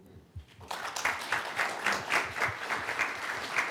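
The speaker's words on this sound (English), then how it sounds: "Let's have one more round of applause" Audience applause at a public talk on slavery and abolition on Nantucket, a dense round of clapping that starts abruptly after a brief pause and holds steady, fairly loud and close.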